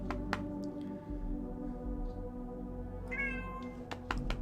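Sammy the ginger cat gives a single short meow near the end, over a steady low hum with a few faint clicks and taps.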